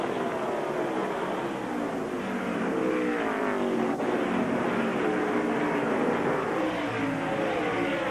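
NASCAR Winston Cup stock cars racing at Phoenix International, a continuous loud engine roar with shifting pitches as several cars pass, no voices over it.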